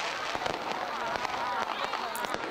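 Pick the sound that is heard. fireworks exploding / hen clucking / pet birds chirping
fireworks exploding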